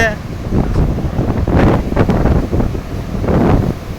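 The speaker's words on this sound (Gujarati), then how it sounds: "અરબી સમુદ્ર ઘૂઘવાટા કરે છે" Arabian Sea surf roars against the shore near Dwarka in broad, surging washes, heavily buffeted by wind on the microphone.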